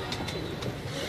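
Pigeons cooing on a rooftop: soft, repeated coos close by over a steady background murmur.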